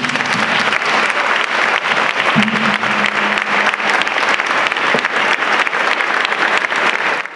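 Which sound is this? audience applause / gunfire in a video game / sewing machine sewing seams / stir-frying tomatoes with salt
audience applause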